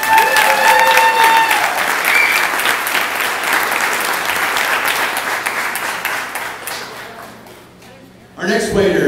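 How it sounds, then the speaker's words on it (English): Loud applause from the audience at a Celebrity Waiters 2012 event greets waiter Fred Gaffney, a dense sustained clatter of many hands that gradually fades over about eight seconds before a voice resumes. "Let's give electrified applause for Mr."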